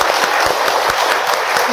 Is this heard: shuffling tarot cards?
no